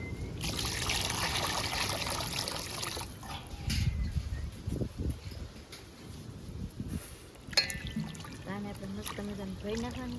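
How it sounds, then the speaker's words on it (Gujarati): Mutton pieces are washed in water, a running trickle and pouring splash with sloshing as the meat is rinsed, steady and close, while people talk over it. "તો હવે આપણે છે ને શાકને ધોવાનું છે તો પહેલાં શાક ધોઈ નાખવાનું"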